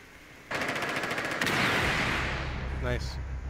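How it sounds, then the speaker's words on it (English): Explosive charge blowing open a wall in Rainbow Six Siege, a sudden loud blast followed by rumbling debris and rattling, with a voice talking over it. "I'm gonna blow out this wall right here."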